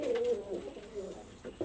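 Female pigeons of a Pakistani high-flyer breed coo softly and close, a short wavering coo followed by a few fainter murmuring calls over a low background hum.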